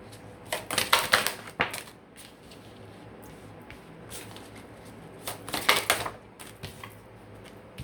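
Oracle cards being shuffled and laid out, with two bursts of papery riffling and slapping near the start and again around the middle, separated by quieter handling; no talking.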